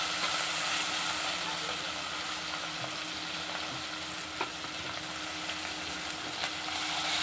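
Coriander and curry leaves frying in oil for tomato rasam, a steady broadband sizzle that runs throughout with small crackles, a faint voice audible underneath.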